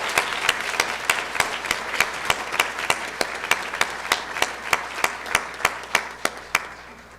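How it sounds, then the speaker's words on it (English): Audience applause at a college honors night awards ceremony: a steady, full round of clapping with regular sharp claps standing out, sustained across the whole stretch without speech over it. "if we could give each of these individuals a round of applause"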